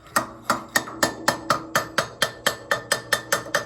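A small hammer taps around a Peugeot 408 muffler gripped by a strap wrench, about fourteen crisp metallic knocks in a steady, even rhythm, close and alone.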